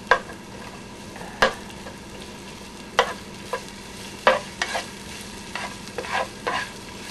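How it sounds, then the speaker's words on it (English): Garlic sautéing in a pan until brown makes a soft background sizzle, broken by several sharp, close spatula scrapes and clacks at uneven intervals, with no talking. "You want to saute it until it's brown."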